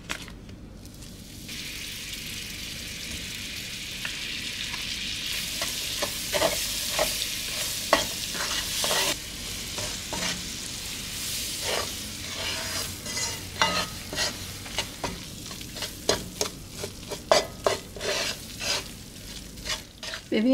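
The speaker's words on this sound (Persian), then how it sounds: "حالا باید یه 3-4 دقیقه تفت بخوره تو روغن" Flour toasting in oil in a pot for kachi gives off a continuous sizzle, with repeated rhythmic stirring scrapes growing busier and more frequent toward the end.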